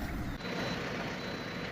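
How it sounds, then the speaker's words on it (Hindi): A truck engine runs steadily just after being started, giving a continuous, unbroken idling rumble and hiss that fills the short stretch with no variation. "गाड़ी अभी स्टार्ट कर रखी है हमने,"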